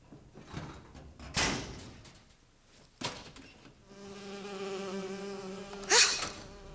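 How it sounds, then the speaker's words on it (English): A bee buzzes in the video game BioShock Infinite with a steady, droning hum that swells in the second half, then ends in one louder close burst after a couple of earlier thumps. "Oh, it's a bee. I hate these things."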